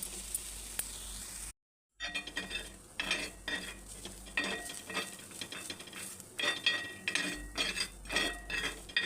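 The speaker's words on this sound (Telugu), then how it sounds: "ఇలా పెంక మీద అయితే బ్రౌన్ కలర్ వచ్చిన దాకా అయితే లైట్గా ఇలా వేయించుకోవాలి." Onions frying lightly in a pan until browned for an egg onion omelette, with soft sizzling and stirring scrapes, a brief silent gap near the start, then steady close clinks and spatula strokes.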